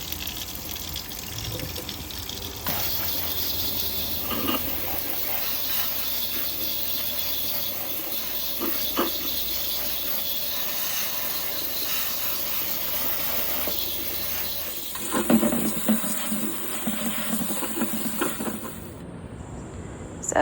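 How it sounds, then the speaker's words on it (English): Running water rinsing dirt and cobwebs off an old turtle statue, a steady close hiss and splash from a tap, with a brief louder gush of spray near the end. "I'm going to wash it first, get all the cobwebs and everything, all the dirt off of it"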